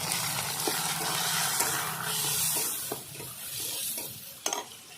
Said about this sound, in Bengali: শুধু আদা আর কাঁচা লঙ্কা বাটা দিচ্ছি একটা গোটা টমেটো কুচি দিয়ে দেবো